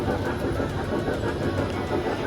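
A ride-on train rolls through the Dubai Mall with a continuous low rumbling hum and faint clatter, steady and moderately close throughout, with no talk.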